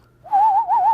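A single whistled note resonated through the nasal cavity, pure and close, wavering in a gentle vibrato for under a second after a quiet start.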